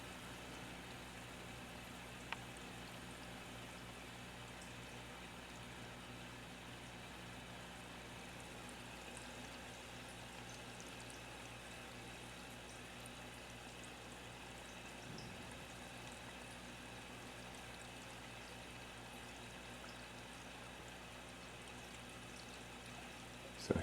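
Aquaponics pump drawing water out of a basement tank, a faint, steady hum with a broad watery hiss that holds evenly throughout, a single click near the start.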